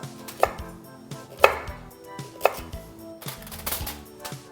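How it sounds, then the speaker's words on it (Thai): Whole lemongrass stalks chopped into pieces and bruised on a board, with several loud, close knife thuds at an uneven pace and a denser clatter near the end, no talk. "ผมใช้ทั้งต้นเลยหั่นเป็นท่อนๆ แบบนี้ครับบุกนิดนึง"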